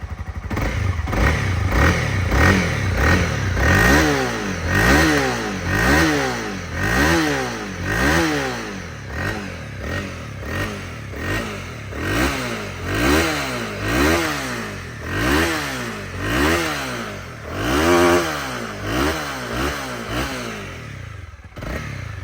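A 2019 Honda CB300R motorcycle with 5,700 km on it idles with a steady engine rumble, then is revved again and again in quick, loud throttle blips that rise and fall in a regular rhythm up close.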